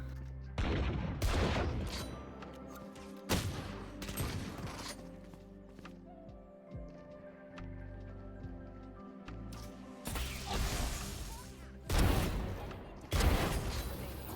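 Outlaw sniper rifle fire in Valorant, with sharp loud shots and bursts spaced through the round, several echoing booms and mechanical clicks between them, no speech over them.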